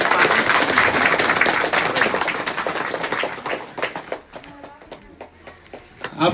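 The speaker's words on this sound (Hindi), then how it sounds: "ताली बजाओ।" Audience clapping at a devotional gathering, a dense round of hands that fades away after about four seconds, leaving scattered individual claps and faint background voices.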